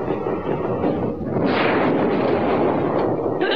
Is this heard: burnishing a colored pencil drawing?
no